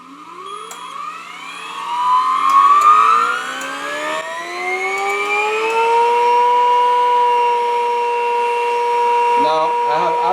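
An iron-free high-frequency generator spins up, its whine rising in pitch like a siren and then holding a loud, steady, harmonic-rich tone. A brief clatter comes near the end.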